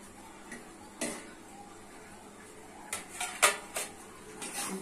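A lid set onto a cooking pot of potato, masoor and chana dal with drumstick, a few light metallic clinks and knocks spread over quiet background, with a clearer clatter toward the end.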